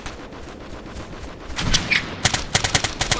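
Rifle gunfire in the Operation Flashpoint: Red River combat game, a burst of rapid sharp shots that grows dense and loud over the second half, with repeated close cracks in quick succession.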